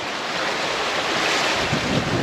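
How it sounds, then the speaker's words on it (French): Swell washes steadily around a sailboat under sail off southern Sardinia, between Villasimius and Capitana, mixed with constant wind rush across the microphone and no talk. "il y a de la houle, hein."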